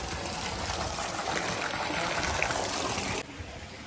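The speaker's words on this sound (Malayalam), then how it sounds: "ആനന്റെ തുമ്പിക്കൈൻ്റെ ഉള്ളിൽ നിന്നാണ് വെള്ളം ചാടുന്നത്." Water spouts from an elephant's trunk at a park in Munnar, producing a continuous splashing, trickling rush that drops off sharply just before the end.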